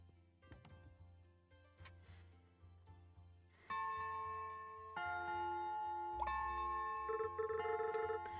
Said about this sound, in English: I haven't heard the church bell ring for years.